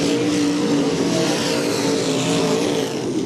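World of Outlaws late model dirt race cars roar together at I-55 Raceway, a loud dense wall of engine noise.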